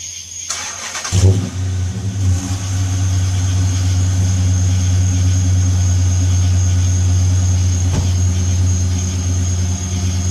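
A Dodge Charger R/T with a 5.7 liter Hemi V8 and no mufflers cold-starts after a brief crank, flaring loudly, then settling into a steady, deep, high idle that stays close and strong to the end.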